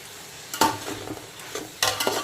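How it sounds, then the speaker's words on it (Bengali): Mixed fried rice with capsicum is stir-fried in a pan, with a steady sizzle broken by sharp scraping strokes of a spatula, close and loud, no talk. "এখন সবকিছু আবারও খুব ভালো করে মিক্সড করে নেব"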